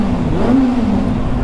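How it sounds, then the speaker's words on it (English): A motorbike engine revs steadily up close, a loud continuous droning growl with a slight pitch rise midway, heard on its own without talk. "listen to that, listen to that bike"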